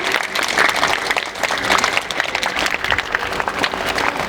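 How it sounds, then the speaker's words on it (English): A school audience at an Independence Day celebration applauds its teachers, loud sustained clapping from many hands with sharp individual claps standing out through the crowd noise. "Give a huge round of applause for these teachers also."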